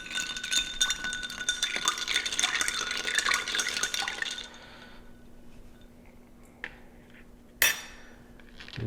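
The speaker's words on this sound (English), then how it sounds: "And finally, just give it a quick stir." A 1800 Reposado tequila Old Fashioned stirred with ice in a glass, giving a dense burst of clinking and rattling for about four seconds, then a few isolated clinks in quiet.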